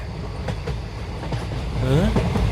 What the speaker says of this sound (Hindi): अगले ही पल वो ट्रेन बिना रुके तेज गति से स्टेशन को पार कर जाती है।